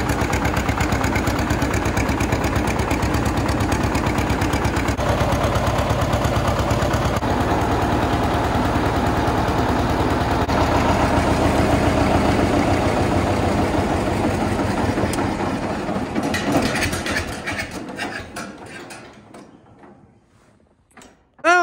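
A John Deere 9RX tractor pulling an old disc harrow through a field gives a loud, steady, heavy engine drone with rattling, which fades and dies away near the end.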